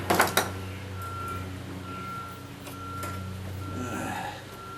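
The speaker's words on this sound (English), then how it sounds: "Got that backup beeper going on that truck every time they move it." A street repair truck's backup beeper sounds in a steady run of evenly spaced beeps, moderately distant, over a low engine rumble and outdoor background noise.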